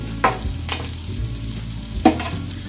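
Green chillies frying in a pan with a low steady sizzle, broken by a few sharp scrapes and clanks of a spoon stirring them, close and without talk.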